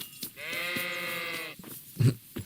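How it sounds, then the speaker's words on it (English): A single drawn-out sheep bleat from the video game Kingdom Come: Deliverance, clear and close, followed by a few short clicks and thumps. "Sheep."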